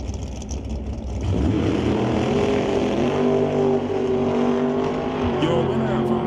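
A Rondex Cavalier drag race car with a 598 cubic inch Sunset motor at a raceway, its engine roaring loud and rising in pitch as it launches, with a track announcer talking over it.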